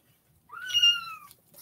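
A kitten lets out a single rising-then-falling meow at bath time, close and fairly clear against a quiet background.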